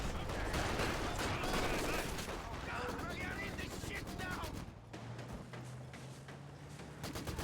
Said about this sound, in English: Rifle grenade firing.